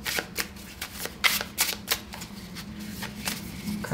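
Tarot cards riffled and snapped down one after another during a reading, a string of crisp close card slaps and papery shuffling with brief pauses, no speech.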